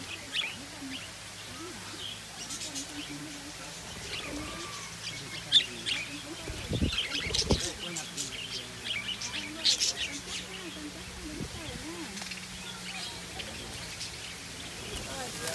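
Birds on an island near Nha Trang chirp in short scattered bursts, faint to moderate, over a constant outdoor hum, with people talking and occasional louder knocks.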